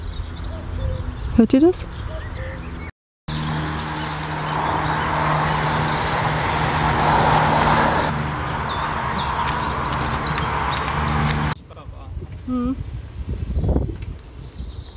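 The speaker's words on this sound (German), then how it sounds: "ich habe schon sehr lange keinen Kuckuck mehr gehört. Und hier höre ich gerade einen." Outdoors along the Römer-Lippe cycling route in North Rhine-Westphalia, a cuckoo calls its repeated two-note song near the end, faint and distant under steady wind and riding noise, after a person speaks briefly.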